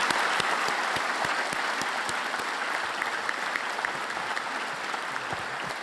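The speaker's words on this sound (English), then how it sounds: "I would like you to give one more round of applause to an amazing group of distinguished alumni." Audience applause at a distinguished alumni awards ceremony, a dense, steady wash of many hands clapping that holds evenly throughout with no talk over it.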